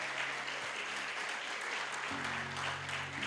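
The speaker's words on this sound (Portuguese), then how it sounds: "Você pode aplaudir ao Senhor Jesus." A church congregation at a Sunday celebration service applauds together, a dense, continuous wash of clapping filling the room with a low musical hum sustained underneath.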